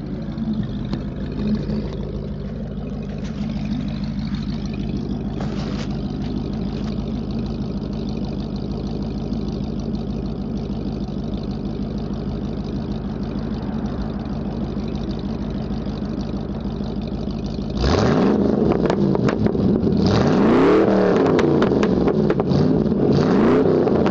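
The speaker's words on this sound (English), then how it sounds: "I'll give y'all exhaust" A 1996 Ford F150 with a 302 V8 and side-exit glass pack exhaust idles with a deep, even rumble, then revs sharply, roaring louder with rising and falling sweeps.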